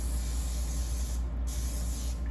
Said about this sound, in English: just going to give this a little bit of spray